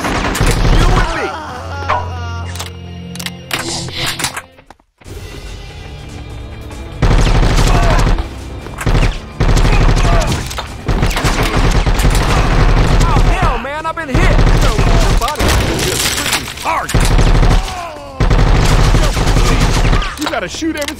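Gunfire in the shooter video game Bad Boys: Miami Takedown: loud bursts of rapid automatic fire and single shots in clusters, with short gaps and game character voices shouting between volleys.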